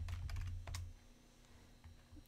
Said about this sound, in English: I'm going to type into the unit search